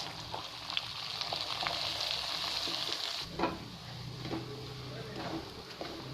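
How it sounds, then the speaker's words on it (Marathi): Semolina roasts in melted ghee for mango sheera, giving off a soft, steady sizzle and frying crackle while a spoon scrapes and stirs the pan, with a brief clatter partway through. A voice speaks quietly in the background. "आता आपण रवा व्यवस्थित भाजून घेऊया"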